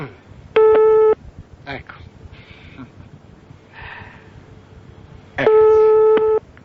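Two loud, steady telephone line tones sound about five seconds apart as a prank call is placed, with quieter voices and handling noise between them and a brief spoken word.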